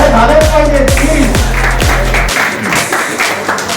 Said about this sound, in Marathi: टाळ्या झाल्याच पाहिजे प्लीज.